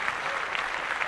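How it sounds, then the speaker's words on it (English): Applause from a group, dense and steady clapping throughout a brief stretch, fairly close and alone. "Round of applause to the director, the producer, and the editors for doing what they did"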